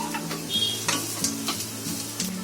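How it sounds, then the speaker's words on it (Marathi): Onions and cashews sizzle steadily in a hot pan while a spoon stirs them, producing a constant frying hiss broken by periodic scraping strokes. "काजू टाकले की आपण 1 मिनिट परत ढवळून घ्यायचं."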